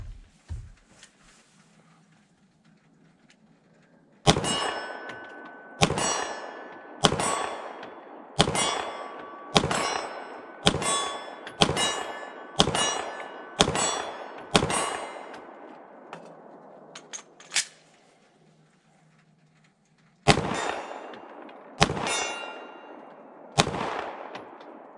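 Steyr M9 9mm pistol fired at steel plates set at 25 and 40 yards: a steady string of ten or so sharp shots with ringing metallic pings, a brief pause, then three more shots, loud and close with no talking.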